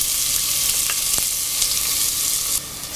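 Thinly sliced onion fries in ghee in a pressure cooker, a loud bright sizzle with a couple of sharp clicks and stirring sounds throughout.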